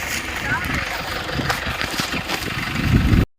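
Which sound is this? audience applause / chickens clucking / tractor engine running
tractor engine running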